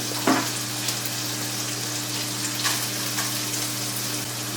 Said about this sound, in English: I'm gonna add the onions right now, so it'll saute with the chorizo.